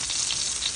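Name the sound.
rainbow trout frying in a pan, skin crisping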